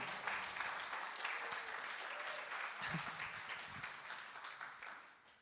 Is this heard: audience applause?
yes